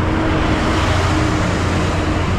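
Road traffic rushes past as cars, buses and trucks stream by at close range. A loud, continuous roar of engines and tires runs with no talk.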